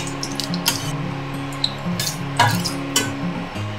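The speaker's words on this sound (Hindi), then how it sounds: "इसी के साथ एक तेज़पत्ता भी हम इसमें डाल के भून लेंगे।" Whole spices such as black cardamom, cloves and a bay leaf frying in hot oil, heard as a soft sizzle broken by a few sharp stirring scrapes and clinks, close and loud.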